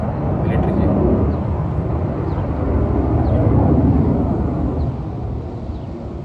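A military jet flies near Leh airport in Ladakh, a loud, steady broadband roar that swells slightly mid-way and holds for about six seconds, with some wind buffeting the microphone.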